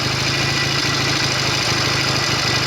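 A Norton Commando 750 motorcycle engine turns over steadily near 1500 RPM as the bike rolls downhill without throttle, a close, even, throbbing drone with a rhythmic low pulse and no break.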